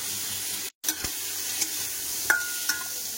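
Five-spice and chopped onion fry in a pan with a steady, loud sizzle, broken by a brief cutoff and a few soft clinks from stirring.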